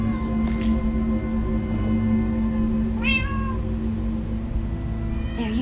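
Cat meows from Minecraft Story Mode sound twice over a steady, loud backdrop of droning game music, each meow short and rising.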